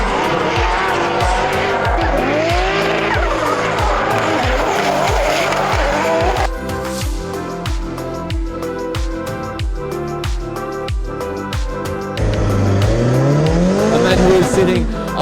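At an Irish Drift Series round, a drift car does a burnout in the burnout box, its engine revving hard in rapid repeated bursts over loud, sustained tire squeal, with a voice talking over it.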